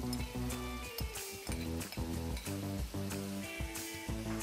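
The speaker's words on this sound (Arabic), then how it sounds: "بنقليها" Freekeh fries in a pan with a steady sizzle, broken by repeated scraping stir strokes and light clinks of a utensil, close and moderately quiet with no voices.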